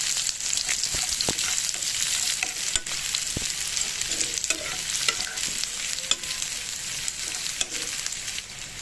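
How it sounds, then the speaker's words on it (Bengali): Chopped onion frying lightly in a pan over low gas, giving a steady close hiss of sizzling oil broken by occasional sharp clicks and scrapes of stirring. No voices. "এবার দিয়ে দিলাম পেঁয়াজ কুচানো পেঁয়াজটা আমি পুরো লাল করে ভাজবো না হালকা হালকা পেঁয়াজটা ভাজতে হবে"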